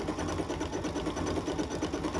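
Embroidery machine stitching out a design, a continuous fast rhythmic mechanical chatter with a pulsing needle beat, close and steady throughout.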